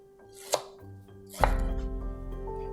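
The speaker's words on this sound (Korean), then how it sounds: "먼저 생강을 얇게 편썰겠습니다." A knife slices ginger thinly on a cutting board in a kitchen, giving two sharp, close cuts about a second apart, the second followed by a brief scraping rumble.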